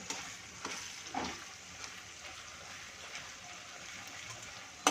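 Onions and tomatoes cooking in a pan, heard as a soft, steady sizzle with occasional stirring scrapes and light clinks, close but fairly quiet, with no talk.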